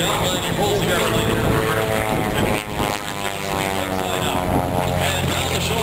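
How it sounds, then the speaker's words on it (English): An aerobatic propeller airplane flies at the 2008 Abbotsford airshow, its loud, continuous, rasping engine drone filling the whole clip with only a brief dip, and an announcer talks over it. "And on the 45-degree down line, he pulls the airplane."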